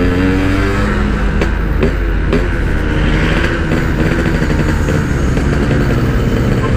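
A Yamaha RX King two-stroke motorcycle on 18-inch wheels drones and revs loudly while being ridden, with a steady, buzzy engine note and wind rush throughout and no talk.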